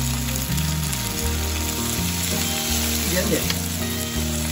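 Crab with soy sauce and white vinegar is stir-fried in a wok, a continuous loud sizzle and hiss with shifting tones, while a voice speaks briefly underneath.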